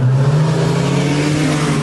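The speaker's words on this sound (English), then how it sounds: "An out-of-control getaway car terrified shoppers." An out-of-control getaway car near shoppers revs hard, a loud, close, sustained engine roar with a steady droning pitch and no pauses.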